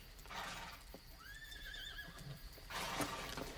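A horse neighs once in a long rising-and-falling whinny, fairly faint outdoors against a rough ambient background, with hoof clops heard around it in a western setting.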